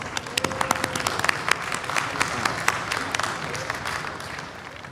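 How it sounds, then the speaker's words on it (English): A large festival crowd at the World Culture Festival applauds to welcome a former Tunisian president, dense continuous clapping with sharp individual claps standing out near the front, fading slightly toward the end. "Let's give him a big round of applause."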